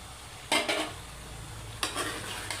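Green chillies tipped into frying chicken karahi and stirred through, two bursts of sizzling and spoon-scraping at close range over a steady low hiss, with no talk.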